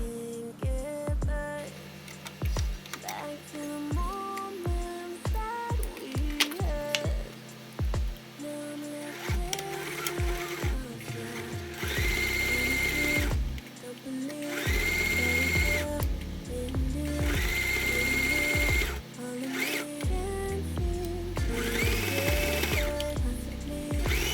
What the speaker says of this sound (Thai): เราก็จะนำชิ้นงานนะคะ ไปเย็บรอบเลยค่ะ